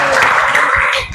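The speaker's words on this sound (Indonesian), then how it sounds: "Oke, tepuk tangan nak untuk Salman." A class of students at an Indonesian madrasah claps for a classmate named Salman, a short burst of close, dense clapping that fades at the end, with a voice faintly mixed in.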